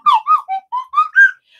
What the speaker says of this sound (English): I love my slide whistle.